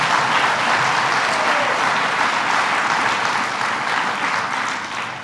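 Applause for the county executive at a Syracuse after-school program funding event: a dense, steady clapping crowd sustained for about five seconds, tapering slightly at the end, with no voices over it.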